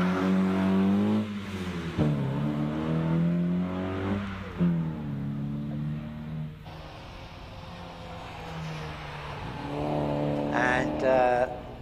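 A Porsche Cayman racing up a hillclimb course, its engine revving through several rising gear pulls with drops between shifts, fairly close, as a commentator talks over it and a higher-pitched engine rises near the end.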